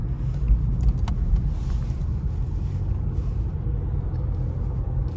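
Steady low diesel engine rumble from inside a BMW 120d F20 hatchback as it accelerates gently, an even, droning hum with faint road noise and no talking.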